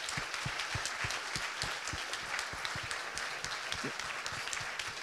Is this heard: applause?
yes